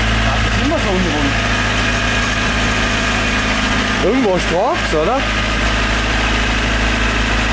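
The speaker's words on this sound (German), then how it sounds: "nachdem jetzt der Motor läuft" Honda 1.6 VTEC engine idling steadily, a loud constant low hum with slight unevenness, while people talk briefly over it in German.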